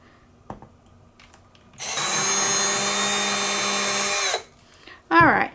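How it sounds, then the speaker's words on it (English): A power drill bores a hole in an acrylic cheer stick in one steady, loud whining run of about two and a half seconds, with quiet handling noises before and a brief voice afterward. "we got both of our holes drilled"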